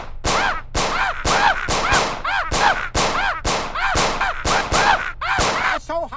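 Rapid rubber-bullet gunfire, a steady rhythm of about a dozen sharp loud cracks, each followed by brief ringing echoes.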